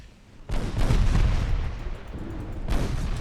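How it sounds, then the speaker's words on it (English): Torpedo hits and gunfire on a warship in the naval game Ultimate Admiral: Dreadnoughts, heavy booming blasts with a deep rumbling roar that swells, fades and strikes again near the end. "2 torpedo hits in my stern."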